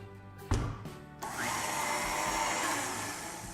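An electric mixer beating homemade cookie dough, with a couple of knocks against the bowl before the motor starts up and then runs in a steady close whir to the end.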